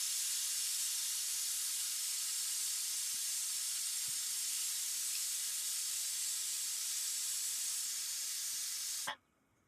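Pressure cooker whistle releasing a long, steady hiss of steam while tomato bath cooks, loud and continuous for about nine seconds before cutting off abruptly.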